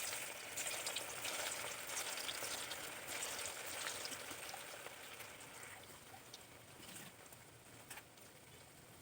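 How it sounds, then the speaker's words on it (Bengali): Vegetable Manchurian balls deep-frying in medium-hot oil, a faint, bubbling sizzle that runs steadily and gradually quietens, with occasional light pops and no talking. "এগুলো আগে আমি ভেজে নিচ্ছি।"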